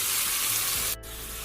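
Chopped onions hit hot ghee with whole spices and bay leaves and fry in a loud, steady sizzle, with a brief stir partway through.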